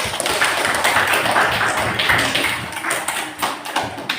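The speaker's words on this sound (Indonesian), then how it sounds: "Tepuk tangan untuk Nisa." A group in a room gives steady, moderately loud applause for a student named Nisa, with many hands clapping fast and evenly and no voices standing out.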